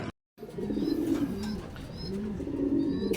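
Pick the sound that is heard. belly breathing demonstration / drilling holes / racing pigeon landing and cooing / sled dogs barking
racing pigeon landing and cooing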